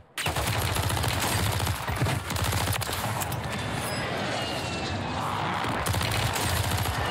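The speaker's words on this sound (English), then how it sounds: "There's literally an airstrike on him." Dense, continuous gunfire in Call of Duty Warzone on Rebirth Island, with an airstrike's rumbling blasts mixed in, loud and sustained throughout with little pause.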